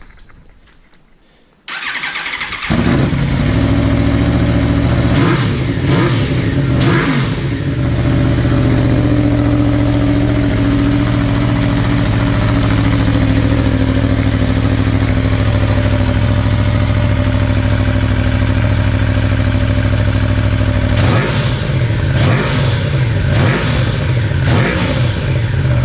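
An Aprilia Tuono motorcycle with a Black Widow exhaust fitted with a removable baffle starts up and revs loudly and close, a deep steady engine roar with a few sharp blips near the start and again toward the end.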